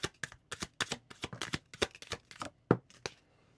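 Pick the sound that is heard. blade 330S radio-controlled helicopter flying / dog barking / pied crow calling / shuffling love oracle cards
shuffling love oracle cards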